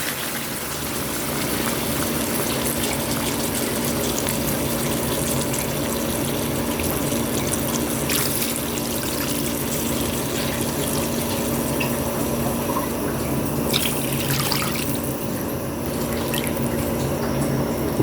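Water pours steadily into a cooking pot holding maya-maya fish and tomatoes for miso sinigang, a continuous rushing splash that stays even and fairly loud for the whole stretch with no talking.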